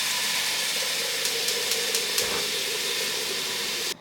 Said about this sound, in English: we are gonna boil this pasta